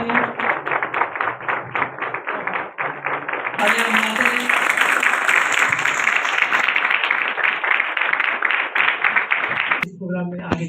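Sustained applause from an audience at a charity blanket-distribution event for widows, a dense patter of many hands clapping loudly for about ten seconds with speech mixed in, fading near the end.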